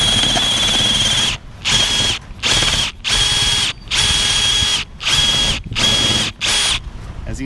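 A power drill bores through the wood-cored deck of a Chris Craft boat, loud and close, in eight bursts of whirring separated by short pauses, with no one talking.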